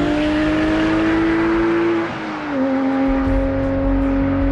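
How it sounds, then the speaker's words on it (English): A Porsche flat-six racing engine idles and hums steadily with a deep, throbbing drone, its pitch dipping slightly midway before settling again. "You can never not enjoy the sound of that historic flat-six engine behind us."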